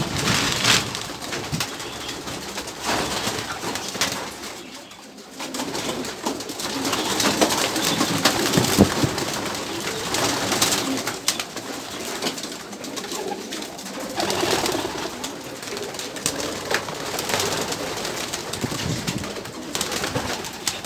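Pigeons coo throughout, soft repeated throaty calls mixed with wing flutters and rustling nearby, a steady dense chorus with no speech.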